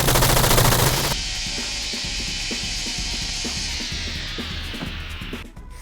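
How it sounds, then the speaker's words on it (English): Minigun fire in the video game Airframe Ultra: a sustained, dense rattling burst after a brief loud onset, rapid shots continuing steadily for several seconds before cutting off. "my favorite thing to do with it is to grab a minigun, right? Hear me out, and then you shoot it."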